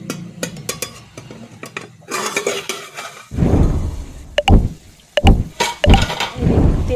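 Spice paste for a Bengali kochur loti and prawn dish stir-fried in a pan, with a spatula scraping and clinking against the metal in bursts and a steady frying hiss underneath, loud and close.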